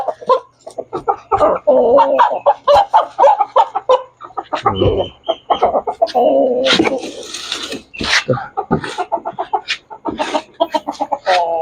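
A Rhode Island cross chicken clucks and squawks up close, with other fowl calls and brief human voices mixed in throughout.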